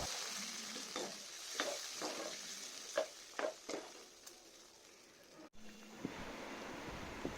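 Thick tamarind mixture simmers in a pan over medium flame, a soft steady bubbling hiss broken by faint stirring scrapes and clinks, fairly quiet and with no talking.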